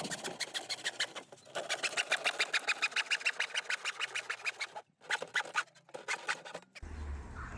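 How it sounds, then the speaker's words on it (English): An Irwin floorboard saw cuts through plastic fascia board in quick, rhythmic rasping strokes, close and fairly loud, with short pauses between bursts and no talk during the cutting. "I'm using this Irwin floorboard saw to cut the fascia"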